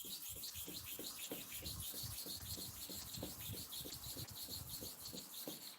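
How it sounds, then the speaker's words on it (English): Hair clipper blade stroked back and forth on a sharpening stone wetted with kerosene, a steady gritty rubbing at a brisk even rhythm, close and continuous with no talk. "let us sharpen for the second side now 20 times"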